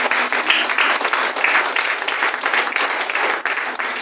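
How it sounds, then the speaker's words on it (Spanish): A church congregation bursts into loud, sustained applause, dense clapping filling the room steadily throughout without a break. "¿Por qué no le das un fuerte aplauso?"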